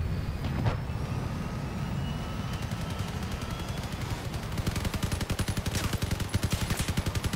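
Fifteen IMP machine guns on a player-built vehicle fire together in a video game, a continuous rapid rattle that grows into dense, loud, pulsing bursts toward the end.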